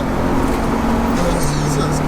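A turbo-swapped Vauxhall Astra GTE of about 300 bhp accelerates in third gear, its engine droning steadily from inside the cabin as the pitch rises with the turbo spooling, under quiet talk from the occupants.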